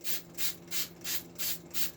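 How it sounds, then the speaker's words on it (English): A spray bottle squirts Pretty Boy cleaner onto a dirty brush in six evenly spaced hissing bursts, close and fairly quiet, with no talk. "we're just going to spray Pretty Boy all onto this"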